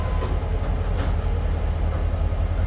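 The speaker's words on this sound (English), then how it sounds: "Here's our first train and probably only train of the evening." A southbound Norfolk Southern freight train rolls past near Chattanooga, Tennessee, a loud continuous rumble with rhythmic wheel clatter on the rails, close by and with no voices over it.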